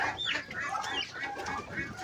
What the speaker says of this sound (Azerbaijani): Bunlar da Krasnodar ördəklərimdir